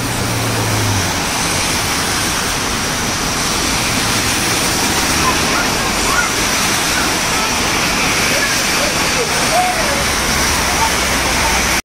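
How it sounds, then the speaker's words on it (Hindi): Heavy rain roars in a steady, loud, unbroken wash of noise for the whole stretch near the Dubai–Sharjah border, with no voices standing out. "फुल बारिश हो गई आज।"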